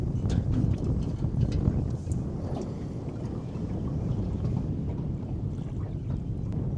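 Steady wind blows over open water from a fishing boat, a constant rough rush buffeting the microphone with faint knocks and no talk.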